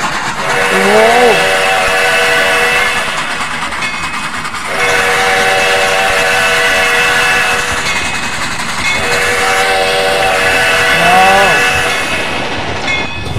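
A large steam locomotive passing on Java, its whistle blasting several long, chord-like tones over a loud, steady rumble and rattle of wagons, close and sustained throughout.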